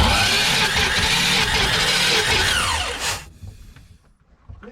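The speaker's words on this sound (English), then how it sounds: "So the starter's working really well" A Volkswagen Golf starter motor fitted to a fishing boat engine whirs loudly and close up for about three seconds, then cuts off abruptly, leaving faint background noise.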